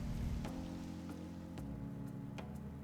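Rain in the video game Persona 5 Royal, a steady hiss of falling water on surfaces with a low background hum and a few faint ticks, moderately loud and without talk.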